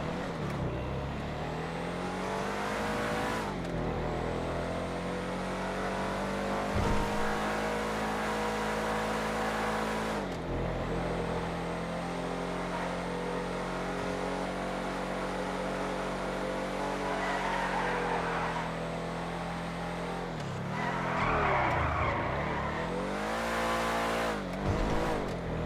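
A Hellion car revs hard on a video game test drive: a loud, sustained engine drone rising and falling through gear shifts, with tire squeals and skids breaking in near the end.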